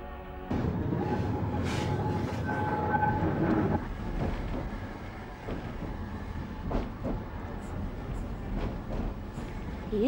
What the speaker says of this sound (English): We'll take the tram.